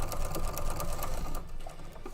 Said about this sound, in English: right now I'm just stitching around the edges of these leaves